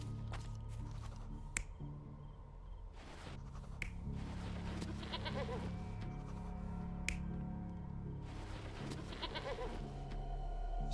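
A goat bleats a couple of times in the Sherlock Holmes Chapter One video game, short wavering cries over a quiet ambient bed with scattered sharp clicks.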